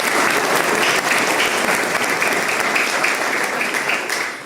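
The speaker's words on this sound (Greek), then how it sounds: "Και αυτός αξίζει να χειροκρότημα." At a New Year's pie-cutting event, the audience applauds a welcomed coach with sustained, even clapping from many hands, holding steady before tapering off slightly at the close.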